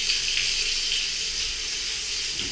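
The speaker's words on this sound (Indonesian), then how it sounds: "Nyalain keran" Water pours steadily from a bathroom tap in a toilet stall, a constant close hiss and splash that runs on alone without pause.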